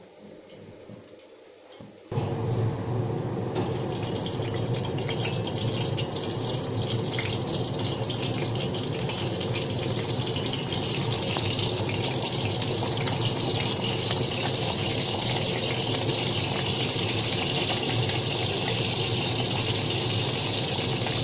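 Bitter gourd pieces salted with turmeric drop into hot oil in a pan, breaking into a loud, steady hiss and sizzle that continues without a pause.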